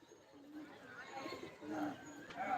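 Tournament racing pigeons coo softly at early morning, low rolling calls repeating under faint chatter and a quiet outdoor hum.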